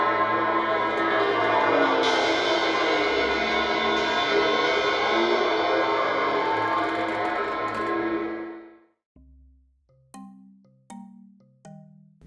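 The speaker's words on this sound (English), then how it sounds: "playing on the cymbal that's inverted on top of one of the drums and rolling on it while moving the pedal" An inverted cymbal rests on a timpani head and is rolled while the pedal moves. It gives a loud shimmering wash with shifting overtones that cuts off, followed by a few separate ringing struck tones.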